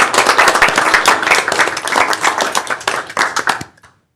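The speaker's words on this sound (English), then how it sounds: "we want to stand up and give you applause for what you do" Audience applause at a council administrative conference meeting, a dense burst of clapping from a room of people standing, steady and loud for several seconds before cutting off abruptly.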